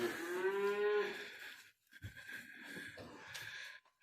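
Cattle in a feeder barn holding heifers and steers let out a loud, close, drawn-out moo, followed by shorter lowing calls and snorts from nearby animals.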